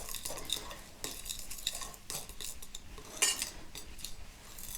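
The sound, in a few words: stirring pastry mixture in a bowl with a blunt knife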